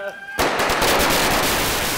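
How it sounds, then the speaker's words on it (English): Lunar New Year firecrackers in Guangxi, China burst into a loud, dense string of rapid cracks after a short quieter lead-in, crackling without pause to the end. "The lighting of firecrackers."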